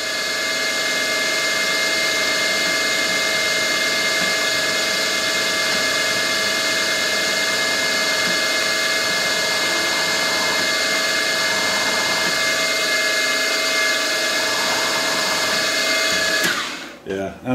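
A center drill bores into metal on a machine, likely a lathe, while modifying a cheap clamp knurler, giving a loud, steady high-pitched whine with a constant hum that holds for about sixteen seconds before stopping abruptly.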